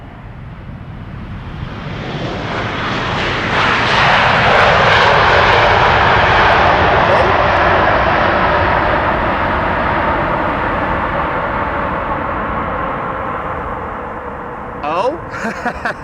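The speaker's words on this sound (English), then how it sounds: "KLM widebody also using the reversers there" KLM widebody airliner landing at Amsterdam Schiphol with thrust reversers deployed, a loud roaring engine rush that builds, holds steady, then slowly fades, with a few faint clicks near the end.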